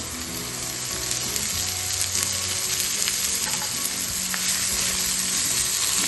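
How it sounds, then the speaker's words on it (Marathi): Radish leaves fry in a hot pan with a loud, dense, continuous sizzle close by, accompanied by occasional clinks and stirring scrapes. "आता जो मुळ्याचा पाला आहे तो यामध्ये टाकून घ्यायचा।"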